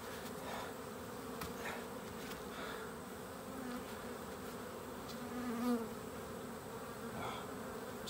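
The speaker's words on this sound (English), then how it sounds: "Stepping on friggin' bees." Honeybees buzz steadily around an open Layens hive infested with wax moth larvae, a faint continuous drone with occasional louder passes of individual bees close by and light handling noises.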